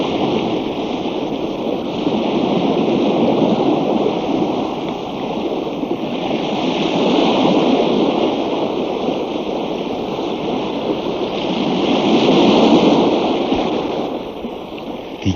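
Steady roaring wash of sea waves, rising and falling in slow swells, with no voices.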